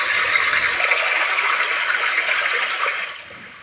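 Steady rushing water of a stream flows loudly and evenly for a few seconds, then fades down near the end, played as the iPhone 16 stream background sound.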